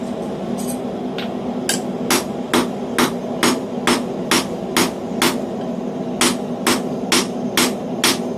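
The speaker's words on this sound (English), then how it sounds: "A steeper tapered punch here to widen this out so it'll accept the other half." A hammer driving a steep tapered punch into hot steel while forging a blacksmith's tong, a run of about sixteen sharp, evenly spaced metallic strikes over a steady background hum.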